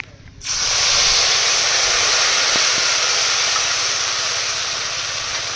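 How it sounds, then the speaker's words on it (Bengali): Poppy seed paste hitting hot oil left from frying fish: a sudden loud sizzle bursts in and holds as a dense, steady hiss, fading only slightly toward the end. "এবার মাছ ভাজা তেলের মধ্যে দিয়ে দেবো পোস্ত বাটা"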